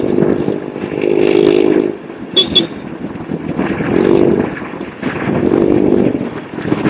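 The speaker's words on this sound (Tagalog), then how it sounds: "maingay kasi yung motor niya" A motorcycle engine roars on a road on the way from Sta. Maria, Bulacan toward Manila, swelling loud in repeated surges with brief dips between them, and a short horn toot sounds once partway through.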